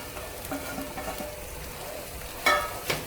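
Garlic and green onion fry with soya chunks and potato in a pan, giving a steady close sizzle with gentle stirring and two sharper scraping clatters near the end.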